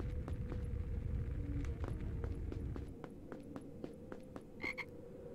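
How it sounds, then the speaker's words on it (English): A frog croaking in the Harry Potter and the Philosopher's Stone PS2 game, a run of short repeated croaks, moderately close, over a low rumble and steady hum that fades partway through. "I just heard another frog."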